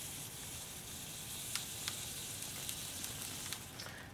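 Liquid nitrogen boiling as a cold milling tool is lowered slowly into it, a steady hissing, crackling fizz with scattered small pops, moderately quiet and continuous, no talking.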